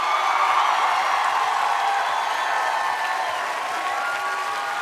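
A television studio audience applauds guests Laurie and Nicolas Fraissinet on a family entertainment show, dense, loud, continuous clapping with faint cheers that holds steady throughout.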